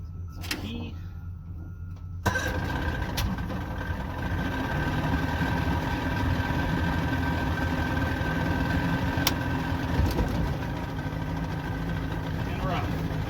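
A pontoon boat's outboard engine starts after about two seconds and settles into a steady, moderately loud idle that runs to the end, with a few faint knocks.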